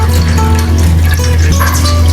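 Warm water is poured into a bowl of salted water for washing vegetables, a loud, close, continuous splashing pour with no talking over it.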